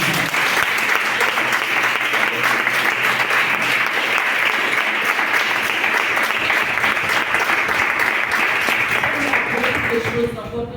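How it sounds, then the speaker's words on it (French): A church audience at a Catholic praise gathering applauds and cheers for the Virgin Mary in dense, sustained clapping that holds steady for about ten seconds before tapering off at the end. "je voudrais que tout le monde acclame la Vierge Marie"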